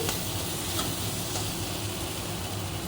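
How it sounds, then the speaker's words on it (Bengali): Loud, dense sizzling of spice paste frying in a hot pan, continuous and close, with faint scraping of stirring. "নারকেল চিংড়ি করবো, তার জন্য মশলাটা ভেজে নিচ্ছি।"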